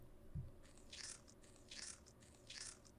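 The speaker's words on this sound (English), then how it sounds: "Just as I'd expected, it's the sound of someone munching on an apple." Video game sound effect of someone munching an apple: three crisp crunching bites spaced about a second apart, close and fairly quiet over a faint background hiss.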